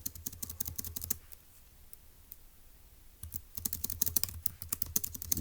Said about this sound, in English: So let's go ahead and type up in our notes for section C